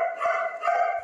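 Several dogs bark and yip at an animal shelter, loud and close, in a steady overlapping chorus with one dog's bark standing out over the rest.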